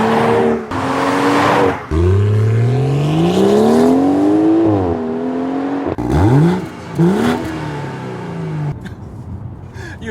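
A 2018 BMW X3 M40i SUV engine revs hard and close, the pitch climbing and falling through several loud surges, with a brief drop between bursts.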